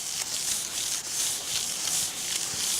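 Wet sanding car paint by hand with a sanding block, light pressure in smooth circular strokes, giving a soft, steady rhythmic swishing rub heard up close with no speech.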